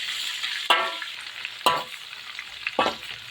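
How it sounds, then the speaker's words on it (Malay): Jacket fish fries in a pan with pandan leaves, crackling in a steady sizzle punctuated by three sharp spatula stirs or flips, close up with no talking. "Kita goreng lagi."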